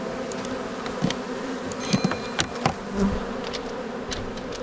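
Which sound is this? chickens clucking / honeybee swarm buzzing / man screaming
honeybee swarm buzzing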